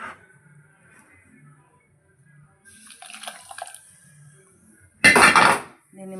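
A metal pot used for tempering spices is handled on the stove while water heats in it for konda pindi curry, with low clinks early and a loud, dense burst of splashing water near the end.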